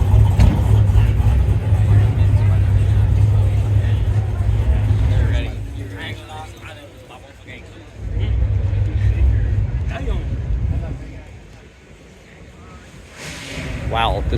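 A Panoz Esperante sports car at a Cars & Coffee meet in Jacksonville, Florida, rumbles loudly nearby, its engine swelling and fading as it pulls away, with people talking over the sound.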